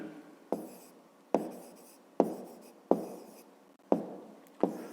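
A pen writes on paper while working a fifth-grade math exercise, six crisp strokes in a steady rhythm, each a sharp scratch fading quickly, close and alone.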